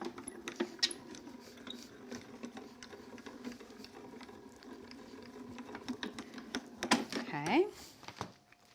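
A craft die-cutting machine runs with a low, steady mechanical whir and rhythmic clicking close by, and a brief voice comes in near the end.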